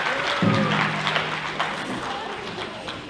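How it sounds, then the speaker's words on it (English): An audience at a Ute powwow applauds the dancers, a short burst of crowd clapping that swells early and thins out, with a voice speaking over it. "let's also give another round of applause for our dancers for coming out and introducing themselves"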